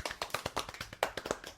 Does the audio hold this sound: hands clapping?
yes